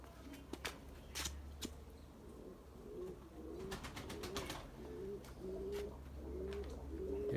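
Pigeons on the ground give repeated soft, low coos in a steady rhythm, with scattered wing flaps and footstep-like taps around them and a constant low outdoor hum.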